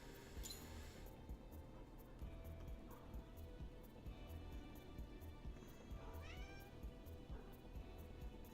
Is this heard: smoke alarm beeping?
no